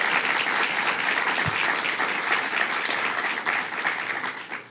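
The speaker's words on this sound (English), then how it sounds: "Let's give them a round of applause." Sustained applause from an audience gathered at a laborers' union hall, a dense, even wash of clapping that continues for several seconds before tapering slightly at the end.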